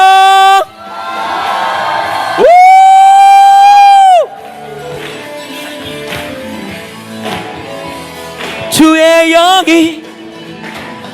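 A church congregation at a worship and testimony gathering in New York lets out a sustained roaring shout and cheer over ringing held music tones, with a second loud whooping burst near the end.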